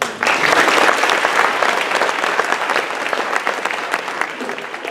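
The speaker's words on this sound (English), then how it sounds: "hats off to you guys and a round of applause for all you guys" At a high school senior honors ceremony, an audience breaks into sustained applause for the graduating seniors, a loud, full clapping from a large crowd that carries on evenly throughout.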